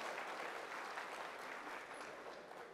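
Dense, steady applause from a ceremony audience at a Rozgar Mela job-appointment event in Bhubaneswar. It runs continuously at even strength and tapers only slightly toward the end.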